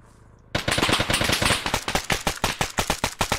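Arma video game combat: after a brief quiet lead-in, a loud sustained burst of rapid automatic gunfire erupts, a dense stream of sharp shots that thins into more spaced cracks toward the end.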